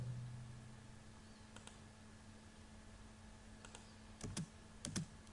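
Keyboard typing for an AutoCAD command: a few quiet key taps, then two firmer clicks near the end, one after the other, faint and isolated over a low steady hum.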